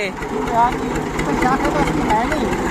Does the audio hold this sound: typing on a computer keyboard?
no